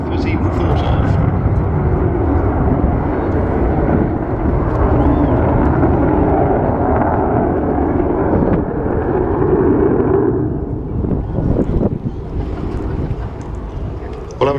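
An Avro Vulcan bomber roars past and recedes, a loud broad jet rumble that stays heavy for about ten seconds before thinning and fading into the distance.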